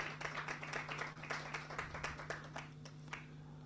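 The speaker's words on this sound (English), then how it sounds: "Round of applause." Sparse clapping from a small group of online workshop participants, scattered individual claps over a steady electrical hum, faint and thinning out toward the end.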